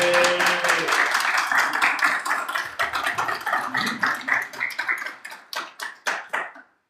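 A conference audience at a French political candidate's event claps and applauds loudly, then the clapping thins into a few separate, slowing claps that die away to silence.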